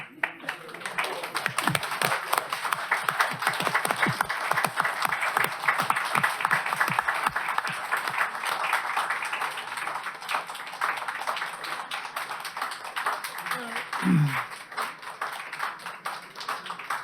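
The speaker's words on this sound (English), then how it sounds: "Can't stop this spontaneous applause." Spontaneous audience applause fills a city council meeting room, a steady wash of many hands clapping that holds for most of the stretch and fades a little toward the end, with no talk over it.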